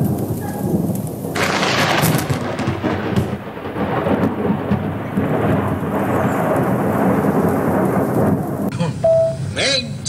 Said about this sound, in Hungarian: Felől nagy vihar közeledett.